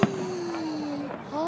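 A sharp burst at the start followed by a whistling rising-falling tone over a steady crowd rumble, from a nearby firework at Dubai's world-record fireworks display.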